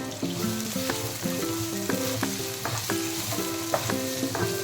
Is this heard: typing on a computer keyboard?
no